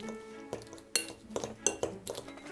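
A fork mashes hot boiled potatoes with a pat of butter in a bowl, giving intermittent close clinks and scrapes of metal against the dish at an uneven rhythm, with no talking.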